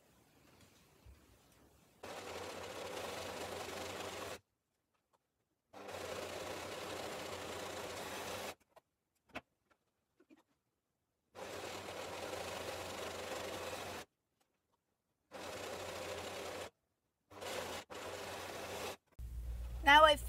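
A sewing machine stitching fabric scrap triangles runs in a series of short, steady whirring bursts separated by silent pauses, fairly quiet and close, with a voice briefly at the end.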